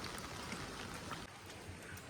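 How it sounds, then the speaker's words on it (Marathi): Heavy rain pours down steadily at a rural village home during monsoon season, a dense continuous hiss of drops on surfaces, loud and close, with no voices. "कारण पाऊस जेवढा पडतोय खतरनाक काय विचारू नका"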